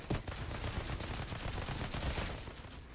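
Sustained automatic assault rifle fire in the sci-fi shooter game Outriders, a dense, continuous rattle of rapid shots at close range with no pauses, steady and loud throughout.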